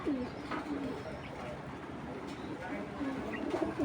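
Silver patti pigeons cooing in soft, repeated low coos against a steady background hum, moderately close, with faint voices now and then.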